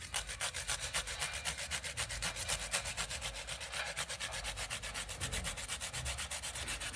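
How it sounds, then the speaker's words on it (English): Close, steady rasping as an avocado seed is scraped against a grater, with quick, even strokes repeating several times per second throughout. "So we're going to need a grater. I'm just going to grate this here."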